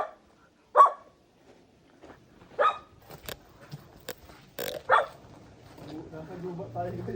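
A dog barks nearby, giving three sharp, spaced barks against a quiet background, with people talking and moving around between them.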